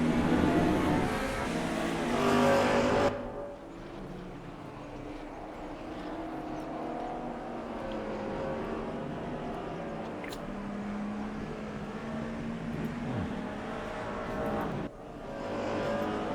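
DTM 1992 touring cars, including a Mustang and a BMW, race at Circuit Zolder in RaceRoom, with a loud engine roar that drops to a steady distant drone before another car sweeps past near the end.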